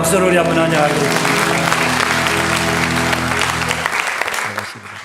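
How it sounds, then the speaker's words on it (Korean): A church congregation at a Sunday morning service claps in welcome, loud, dense applause over organ or keyboard chords that fades near the end. "박수로 우리 한번 환영하겠습니다."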